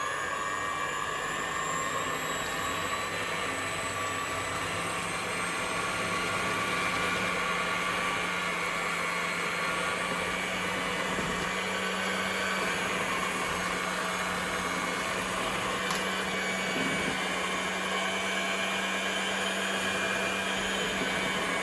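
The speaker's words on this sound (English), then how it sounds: "Sink that down a bit, get the mixer on." An electric mixer stirring plaster of Paris in a container: a steady loud motor whine with a constant hum and a faint churning wash, unbroken for over twenty seconds with no talk.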